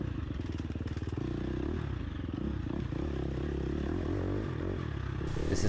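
A race motorcycle on a fast lap of a sprint enduro track roars steadily and loudly at close range, its engine note rising and falling through gear changes with clatter and scraping underneath.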